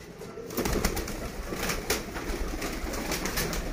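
Domestic pigeons kept by a fancier coo in a loft, with soft, throaty, repeated rolling calls from several birds close by, overlapping continuously against a low background rumble.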